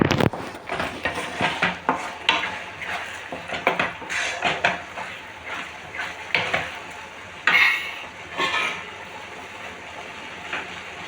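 Semiya vermicelli roasting in a pan is stirred with a utensil, giving irregular scraping and clinking strokes against the pan with a soft dry sizzle underneath.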